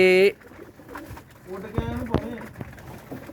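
Pigeons settling on a rooftop, with soft coos and wing sounds close by while someone talks over them.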